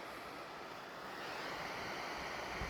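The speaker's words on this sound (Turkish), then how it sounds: "Görüyorsunuz şelale kısmından, taşma kısmından su olduğu gibi akıyor." Rain-swollen water pours steadily over a waterfall's overflow spillway, a loud, continuous broadband rush that swells slightly toward the end, with no voices.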